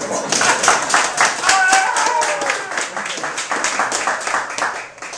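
Seminar audience clapping for a speaker: lively, uneven applause that swells and then tapers, with voices and a few whoops over it.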